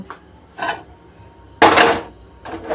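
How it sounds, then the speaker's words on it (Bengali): A wok (kadai) set down on a gas stove for cooking, giving a few separate metallic clatters and knocks, one louder and near, with quiet gaps between them and no talk. "গ্যাসটা অন করে কড়াইটা গরম করতে বসিয়ে দেব"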